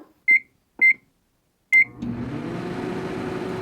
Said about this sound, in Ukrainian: Вірно, мікрохвильова піч.